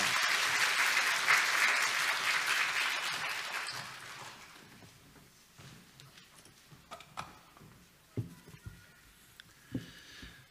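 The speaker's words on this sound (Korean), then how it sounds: "박수로 목사님 모시겠습니다." A church congregation applauds the pastor, starting with dense, loud clapping that fades out over a few seconds, then gives way to scattered taps and small knocks in the room.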